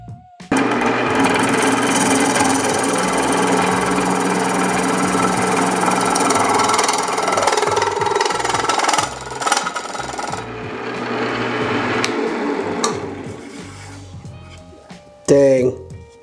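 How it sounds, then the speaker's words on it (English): A lathe turns an aluminum cup brim, grinding and rumbling loudly and continuously with metallic scraping, then fades toward the end before a sharp clattering burst as the piece busts out. "And now I'm just trying to turn the aluminum to see if I can"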